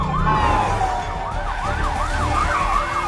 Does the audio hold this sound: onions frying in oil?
no